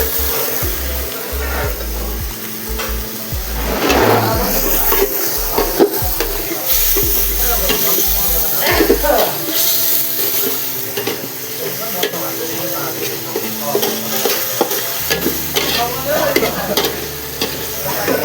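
Water poured into a hot pan of chicken sets off a loud, rushing hiss that stays intense and steady for a long stretch, with low bumps from the pan at the start, close by and with no voices.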